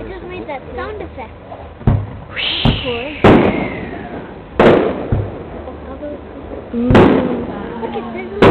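Fireworks bursting over a marina at Comox, a handful of sharp cracks and pops spaced a second or two apart with a whistling rise, heard amid excited chatter from nearby people.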